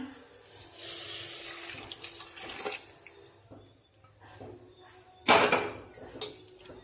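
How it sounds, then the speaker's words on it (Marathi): Hot water pours steadily from a glass into a wheat kheer mixture, soft and close, ending with a louder splashing gush. "मी घालणार आहे दोन ग्लास गरम करून घेतलेलं पाणी"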